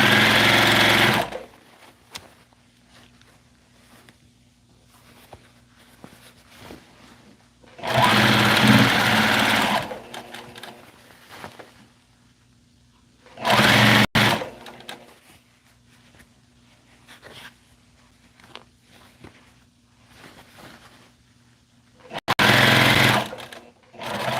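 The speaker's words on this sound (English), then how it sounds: "Теперь я подгибаю и прострачиваю." A sewing machine hemming and stitching fabric, running in several loud, rapid buzzing bursts of a few seconds each, separated by quiet gaps with faint handling noises.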